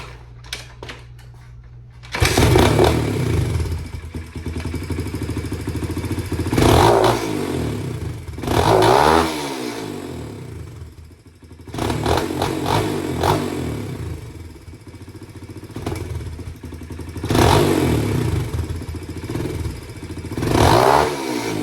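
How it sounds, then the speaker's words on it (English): A small Chinese Apollo pit bike engine with a Nibbi carburetor cold-starts near the mic, then idles with a rattly putter, broken by several sharp revs that rise and fall. "I'm about to give y'all a nice little cold start just so y'all can see how she sound"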